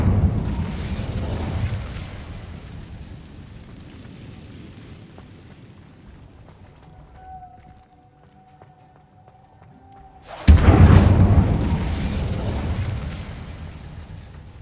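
A sudden loud, roaring burst of flame erupts from the Incendio fire spell in the Hogwarts Legacy video game, breaking a quiet stretch and then slowly fading out over several seconds.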